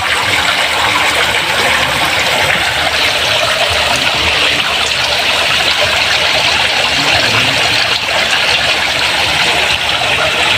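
Water pours steadily and loudly into a catfish hatching tank, a constant close rushing trickle with no pauses.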